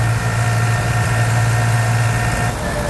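A New Holland 3600-2 tractor engine runs at high speed with a steady, loud, droning hum and constant vibration, unbroken and without talk.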